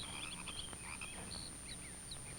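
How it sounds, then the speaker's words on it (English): Frogs croaking steadily in a pond where tadpoles swim, a dense chorus of overlapping calls at moderate distance with no voices. "Are the papa and mama frogs making the noise?"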